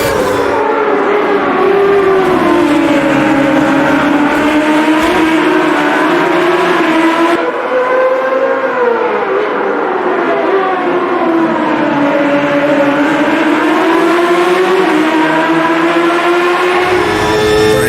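Simulated 1995 CART IndyCar racing engines in the Automobilista 2 racing game give a loud, continuous high whine that rises and falls in pitch as the cars accelerate and brake through corners.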